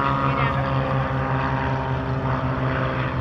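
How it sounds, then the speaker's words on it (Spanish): A Beechcraft Bonanza propeller airplane taking off during departures at the SUN 'n FUN 2018 fly-in, giving a loud, steady engine-and-propeller drone with strong low harmonics that holds evenly throughout. "Bonanza despegando ahora."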